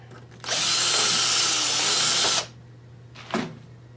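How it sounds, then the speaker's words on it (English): A power drill drilling holes in a Jeep TJ whines at high speed for about two seconds, stops, then gives one brief short burst; a steady low hum runs beneath. "So we're going to drill all 4 holes that way."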